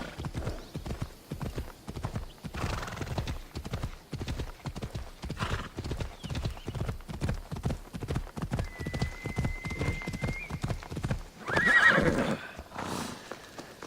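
Horse hooves clip-clop in a steady rhythm in the Assassin's Creed Odyssey video game, with a brief neigh near the end and faint game sounds around it.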